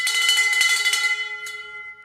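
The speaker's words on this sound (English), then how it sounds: "Let me show you how this bell rings." A metal bell is struck several times in quick succession, ringing bright and clear, then left to decay with one lighter tap near the end, loud and close in a room.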